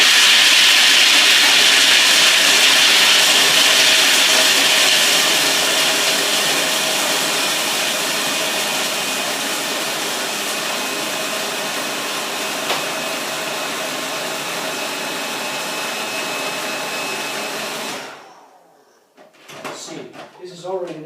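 A food processor grinds 1.5 cups of hazelnuts into nut meal with a loud, steady whirring roar that gradually softens, then cuts off near the end, leaving brief clattering sounds.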